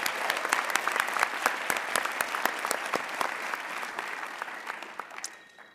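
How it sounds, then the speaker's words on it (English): Audience applause at a Black celebratory graduation ceremony, a dense sustained crowd of clapping that gradually fades toward the end, fairly distant with no speech. "Another round of applause."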